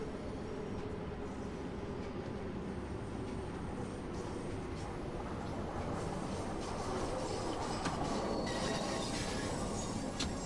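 A train runs into Waterloo in the Train Sim World 5 game, with steady rumbling wheels and rail noise and brief metallic squeals and clicks toward the end, heard alone at moderate level.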